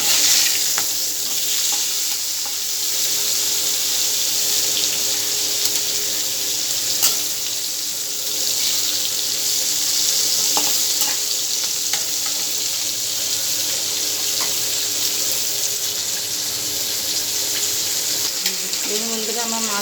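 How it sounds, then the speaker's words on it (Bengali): Pieces of fresh satin river fish frying in hot oil and being turned over, a steady bright sizzle with occasional clicks and scrapes of a utensil, continuing close and even throughout. "মাছগুলো উল্টে দেবো"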